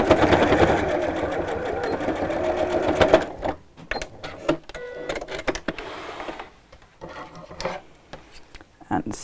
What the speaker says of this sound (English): just sew down this side by the same amount